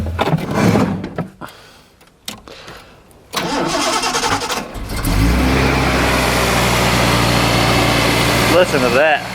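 A Datsun 280ZX engine cranks after a pause, catches and settles into a loud, steady idle with a sharp rev swell near the end; a voice is briefly heard over it early on.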